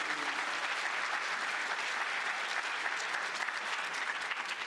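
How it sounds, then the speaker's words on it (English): An audience at a Nashville conference on African-American history and culture applauds Ms. Presley with steady, even clapping that stays fairly faint and distant throughout, with no voices over it. "Let's give Ms. Presley another round of applause."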